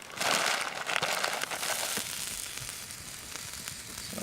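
Sausages fry over a campfire on a solo trip in Algonquin Park, giving a steady close sizzle and crackle with a louder burst at the start and no talk.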